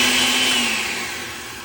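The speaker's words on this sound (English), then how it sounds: "what we have here is my blender, good old blender. We're going to plug it in." A household blender whirs loudly while making paper pulp, a steady motor roar heard close and alone that eases slightly as it runs.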